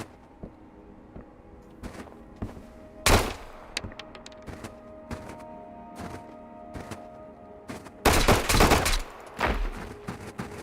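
Gunfire in the video game Road to Vostok, with a single loud shot early on and a denser burst of shots later, set against a steady game ambience with soft intermittent clicks.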